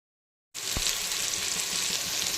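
Spiced masala paste for a jackfruit, chicken and potato curry sizzles in hot oil after a moment of silence, a steady, even frying hiss with one soft stir-like knock near the start.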